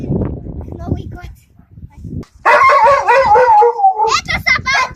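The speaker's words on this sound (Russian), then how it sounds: "Это собачки, вот они. Правда, я так говорю, потому что они слишком громко лают." Yakutian Laika dogs bark and howl loudly in long, wavering bursts outdoors, following a stretch where someone talks and close rustling is heard.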